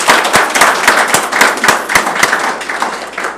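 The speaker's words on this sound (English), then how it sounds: "Let's have another big round of applause for everybody" A crowd applauds youth participants at a high school council meeting, brisk loud clapping close by with sharp individual claps standing out, continuing steadily throughout.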